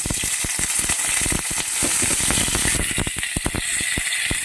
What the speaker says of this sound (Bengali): এরপর আমি এক চামচ তেল দিয়ে দেব প্রথমে আমি কপিগুলোকে ভেজে নেব